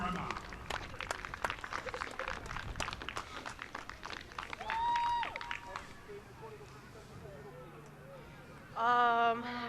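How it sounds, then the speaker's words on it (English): Scattered crowd clapping at a girls' secondary school rugby premiership final, moderate and uneven at first, then dwindling, with voices and a couple of short tonal sounds later on. "Round of applause for Auckland Girls Grammar."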